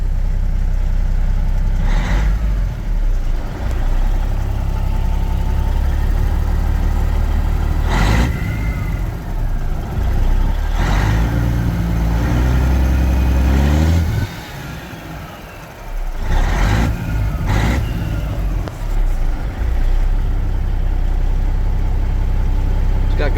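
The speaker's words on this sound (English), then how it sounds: "I just love the sound of a mechanical cat." A 1991 Peterbilt 379 single-axle daycab with a mechanical CAT 3406 diesel idles steadily and loudly after a cold start, with a low rumbling drone and brief revs, while voices talk over it.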